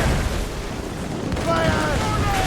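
Naval cannon fire from a sailing warship in Assassin's Creed Rogue: a dense, rumbling barrage of booms filling the whole moment, with a voice briefly calling out over it.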